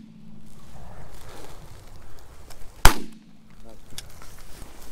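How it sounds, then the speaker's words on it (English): A single sharp shotgun blast rings out at a mallard drake in a field during a duck hunt, loud against quiet outdoor ambience with faint voices before and after. "Shoot that drake."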